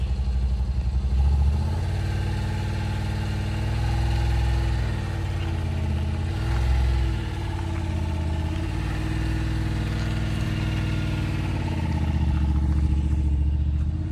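A vehicle drives down a trailer ramp at a sand dune campsite, its engine a steady low rumble with slight swells in revs, close and continuous with no talking.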